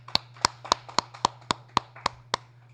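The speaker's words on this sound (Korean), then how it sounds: "좋아요. 박수." Hand claps in a slow, even rhythm, about ten crisp distinct claps roughly a quarter second apart, close and clear over a low steady hum, sounding like one or two people rather than a crowd.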